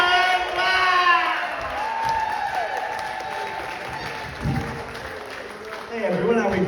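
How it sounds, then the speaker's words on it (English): Comedy-club audience at a stand-up cider event in Taunton clapping and cheering steadily, with whoops and shouts rising over the crowd noise and a swell near the end. "Start clapping. Start cheering."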